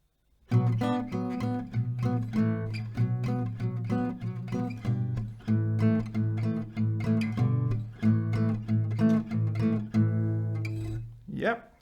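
An acoustic guitar plays the intro of a song at standard tempo, a steady, driving rhythm of bright strummed chords, loud and close, with no voices over it.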